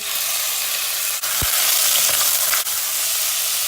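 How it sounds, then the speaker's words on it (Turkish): Meat tipped into hot oil in a pan on a home stove hisses with a loud, steady sizzle that fills the whole stretch, broken only by a couple of brief dips and a faint low thump. "Tam bu aşamada etimizi boşaltıyoruz."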